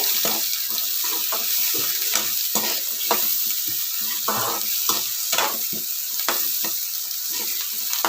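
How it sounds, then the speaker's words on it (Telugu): Curry leaves fry in a pan for paneer kurma, giving a steady crackling sizzle broken by frequent clicks and scrapes of stirring throughout, with no talking. "కరివేపాకు అనేది కూడా వేసుకొని చక్కగా ఫ్రై చేసుకొని"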